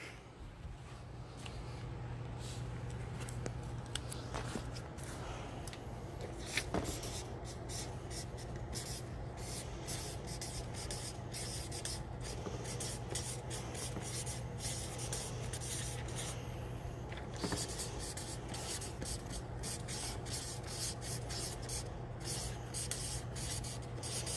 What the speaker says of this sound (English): I'm going to write down while you're thinking what my one sentence summary would be.